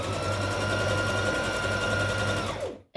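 A sewing machine runs a dotted zigzag stitch along elastic for a stretchy bodysuit seam, humming and rattling steadily up close before winding down and stopping abruptly.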